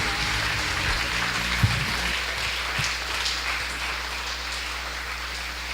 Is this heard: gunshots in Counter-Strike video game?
no